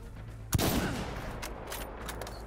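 Gunfire in the video game Insurgency: Sandstorm, a single sharp shot followed by a few fainter, more distant reports over a steady background hum.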